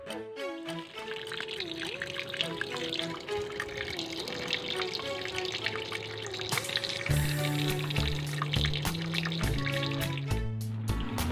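A Sharp ES-FA750P top-load automatic washing machine fills with water, a continuous pouring rush heard close, with electronic tonal hums and beeping tones from the machine over it.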